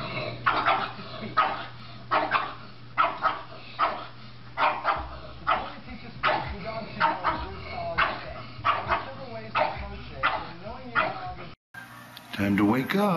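A pug barking in repeated short yaps and bow-wows, close and fairly loud in an irregular rhythm, with a person speaking between the barks.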